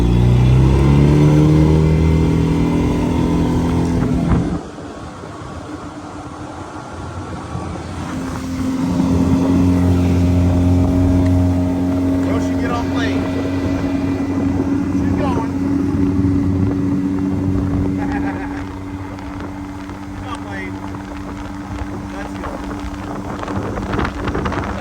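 A Carolina Skiff J16 motorboat with an upgraded transom runs across the water, a steady engine drone with wind buffeting the microphone, dropping back partway through and then rising again while people talk over it.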